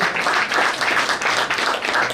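An audience at a swearing-in ceremony in Delhi claps loudly and continuously in a dense, even burst of applause.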